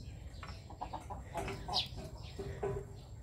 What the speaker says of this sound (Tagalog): Hello, giant chicken.